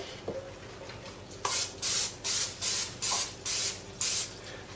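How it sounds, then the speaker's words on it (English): Olive oil cooking spray hisses in seven short, loud, evenly spaced bursts as it is sprayed over a pan above a kitchen sink. "Take some olive oil spray. I'm gonna spray it over the sink so I don't get a mess in here."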